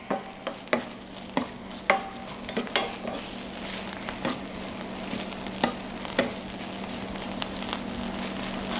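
Tomato sauce sizzles steadily in a pan while a utensil stirs it, with repeated sharp scrapes and knocks against the pan over the constant frying hiss and no talking.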